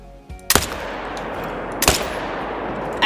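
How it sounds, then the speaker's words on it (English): Two loud, sharp rifle shots from a Zarza .223 in theHunter: Call of the Wild, about 1.3 seconds apart, each with a decaying outdoor echo over quiet ambience. No talking. "I gave him two shots."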